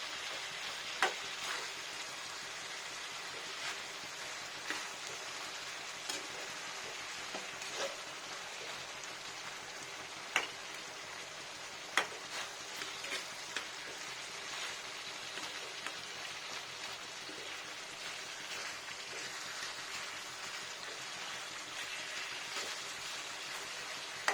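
Chicken kosa simmering in oil over slow heat gives a steady, soft sizzle and crackle with scattered small pops and occasional stirring clicks, continuous and fairly quiet throughout, with no voices.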